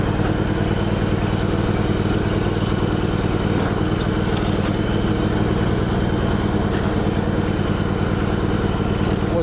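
A Kohler Command engine on a Craftsman GT5000 lawn tractor runs with the choke on, giving a loud, steady, close-up throbbing idle with no pauses throughout.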